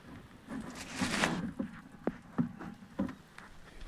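Soft patter of rain at a riverside while fishing, with scattered drips and light taps, faint and close, with no voices.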